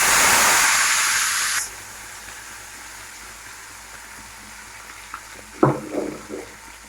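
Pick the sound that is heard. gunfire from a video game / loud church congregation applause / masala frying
masala frying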